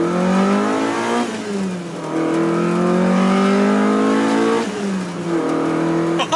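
A Honda CRX accelerates hard in second gear toward 6,000–7,000 RPM, its engine note rising loud and close from inside the car, dipping briefly at a shift, then climbing again.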